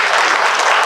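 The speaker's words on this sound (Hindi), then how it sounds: "तालियां एक बार आप लोगों के लिए।" A brief burst of dense audience clapping at a talk in Kalimpong, loud and continuous throughout with no voice over it.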